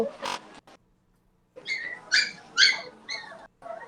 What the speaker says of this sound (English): Can you hear puppies?